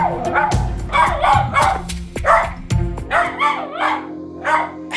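A dog with separation anxiety barks repeatedly in short bursts, mixing yips and drawn-out whining howls, close and loud with no voices.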